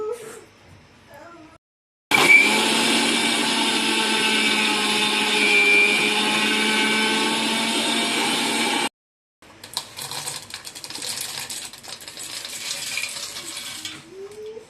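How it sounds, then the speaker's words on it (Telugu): A kitchen mixer grinder whirs loudly and steadily for about seven seconds while grinding roasted sesame seeds for laddu, then cuts off, followed by lighter rattling and handling noises. "ఇందాక ఫ్రై చేసుకున్న నువ్వులు మిక్సీ పట్టుకుందాం."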